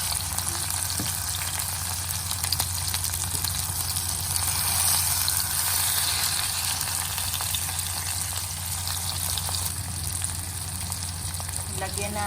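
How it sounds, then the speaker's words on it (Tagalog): Salmon frying briefly in a pan while sinigang na hipon is being made, a steady, broadband sizzle that runs continuously and fairly loud, with a faint low hum underneath and no talking. "Prito natin saglit yung salmon guys para masarap."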